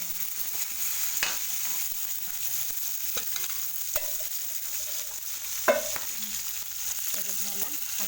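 Curry leaves and mint sauté in hot oil in a pan, a steady close sizzle broken by scraping, clinking stirs of a spoon against the metal at irregular intervals.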